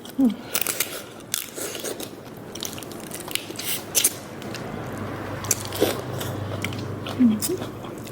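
Spicy pickled field crab salad being eaten, with crisp crunches and bites scattered through, close and moderately loud, mixed with wet chewing and brief vocal sounds between bites.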